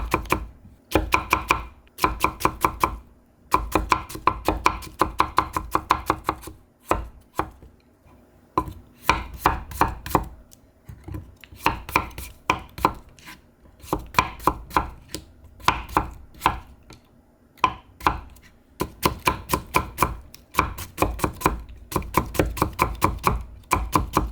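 Rapid, crisp knife strikes on a cutting board as vegetables are sliced thinly for a buckwheat pancake batter, coming in quick bursts with short pauses, close and clear with no talking.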